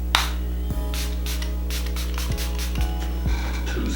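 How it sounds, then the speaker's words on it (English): Short hissing bursts of Milani Make It Last setting spray, about two quick sprays at close range, heard over a steady low electrical hum and a few small clicks. "is me spraying setting spray, and I'm just going to be using drugstore setting spray by Milani"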